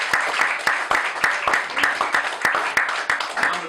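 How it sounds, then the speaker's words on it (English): A small audience at a house debate claps in a round of applause, a dense patter of hand claps running steadily throughout, moderately close, with a voice murmuring faintly underneath. "One more round of applause."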